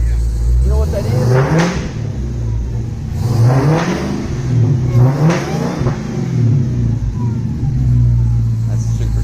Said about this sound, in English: The supercharger makes a noise when you rev it.